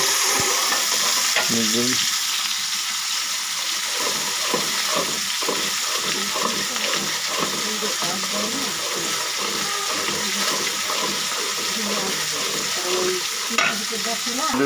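Steady sizzling of onions frying in hot oil at a market food stall, with repeated scraping and stirring sounds; a voice talks faintly in the background.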